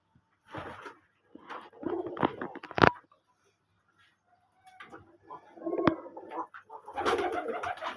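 Domestic red and white pigeons coo in a loft, low throaty bursts in two clusters separated by a quiet gap, close and fairly clear with a couple of sharp clicks.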